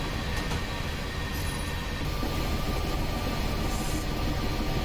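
A Union Pacific 8500 gas turbine locomotive, three units leading a long freight train in Train Simulator 2020, gives a steady loud roar and rumble with a high turbine whine and occasional wheel squeal.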